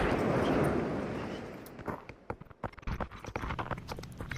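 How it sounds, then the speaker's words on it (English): Footsteps overhead in the VR shooter Population: One, heard as a run of quick, uneven thuds after a fading rumble, fairly close and distinct with no voices. "Hearing footsteps directly above me"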